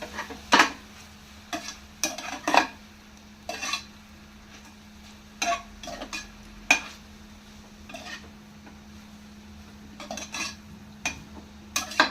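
Street-style noodles tossed with pepper powder and a packet of masala, stirred with a utensil in a pan, giving scattered scraping and clinking strokes at an irregular pace over a low steady hum.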